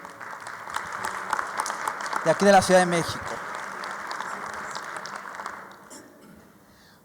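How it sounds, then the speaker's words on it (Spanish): Assembly audience applauding athletes, a steady wash of clapping that swells briefly in the middle and fades out, with someone speaking over it. "un gran aplauso para nuestros compañeros deportistas de"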